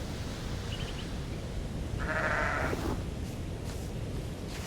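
Sheep bleat in the sandbox survival game Aloft, with one clear wavering bleat and a few faint shorter calls over a steady ambient bed and no speech.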